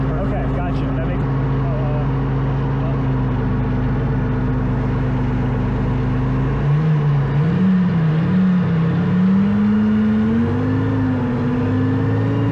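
A tank engine runs in a steady, heavy low rumble with its tracks clattering underneath, holding a constant drone before the pitch wavers and climbs as it works harder, close and loud with people talking over it.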